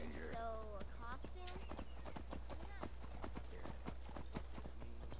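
Horse hooves clip-clopping in the video game Skyrim, a steady run of close, sharp hoofbeats with a horse whinnying near the start, under a constant low hum and overlapping voices.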